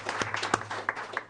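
Applause from a school board meeting audience, a scattering of claps with a few sharper hand strikes standing out, fairly faint and brief over a steady room hum.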